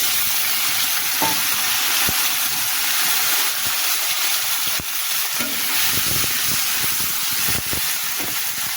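Steady sizzling and frying of tomatoes, onion and garlic in a hot pan for an egg curry, with occasional stirring scrapes and clinks throughout; no talking.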